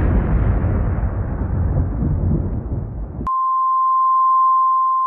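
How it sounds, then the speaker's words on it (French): Nuclear explosion sound effect dropped in during editing: a loud, deep roaring blast rumbling for about three seconds, cut off abruptly and followed by a steady pure electronic tone held to the end. "je fais une explosion nucléaire"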